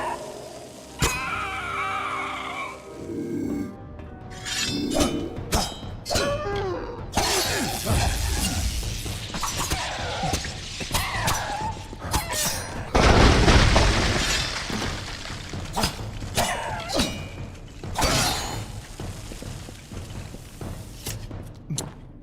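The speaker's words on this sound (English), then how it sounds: "Part of the ice barrage hit the wall there." An ice barrage spell in Kingdoms of Amalur: Re-Reckoning hits a wall, heard as repeated crackling, shattering impacts and booming bursts amid ongoing combat sounds, loudest in a dense smash midway.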